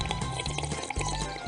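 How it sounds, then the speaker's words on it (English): Water being drunk in the trivia game You Don't Know Jack, a short burst of close gurgling and glugging liquid over a low, pulsing musical background. "And now while I drink water."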